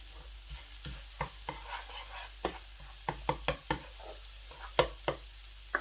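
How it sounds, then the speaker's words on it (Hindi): Garlic cooking in hot ghee over a low flame, with a soft steady sizzle under repeated sharp scrapes and clinks of a spoon stirring in the pan, all close and fairly quiet. "जो ही घी गर्म हो आपने आंच को बिल्कुल हल्का कर देना है, क्योंकि लहसुन जो है उसको हमने जलाना नहीं, सिर्फ पकाना है"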